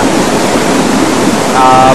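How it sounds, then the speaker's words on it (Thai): Steady roaring rush of a waterfall beside a cave visited by tourists, loud and continuous throughout with no clear breaks. "มีน้ำตกนี่ไว้ให้นักท่องเที่ยว"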